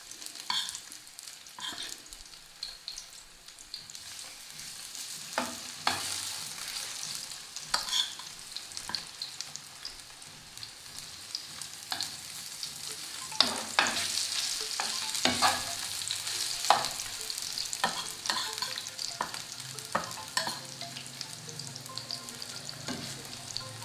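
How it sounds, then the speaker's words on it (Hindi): Fish pieces frying in hot oil on low heat, a gentle crackling sizzle with scattered pops and occasional utensil taps that grows a little busier partway through. "अब हमने आहिस्ता आहिस्ता से फ़िश इसमें ऐड करनी है और इसको अच्छा सा फ्राई कर लेना है।"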